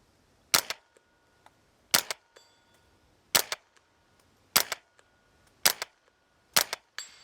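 An integrally suppressed Tippmann Elite ISS fires six steady shots at a steel plate about 100 yards away. Each muffled crack is close and crisp and is followed a beat later by a faint distant ping, with no voices.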